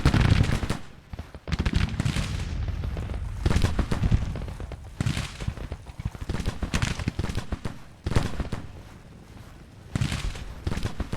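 Musket gunfire rolls across a Civil War battlefield in the Grand Tactician: The Civil War strategy game, with loud, dense volleys and crackling fusillades arriving in repeated waves, one after another.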